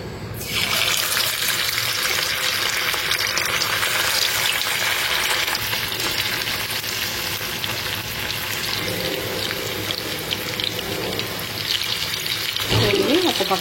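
Fish pieces deep fry in hot oil, a loud, steady, dense crackling sizzle that holds for the whole stretch, with a brief clatter near the end.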